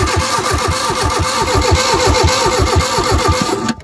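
An abandoned Citroën Visa with an ignition problem cranks its engine, the starter churning in a fast, even rhythm for several seconds, loud and close.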